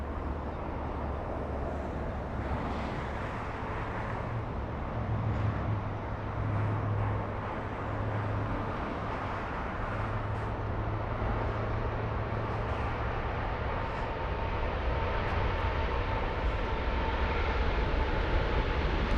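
A jet airplane with GE90 engines departs at LAX, a steady, loud broadband roar that holds throughout with a low rumbling undertone.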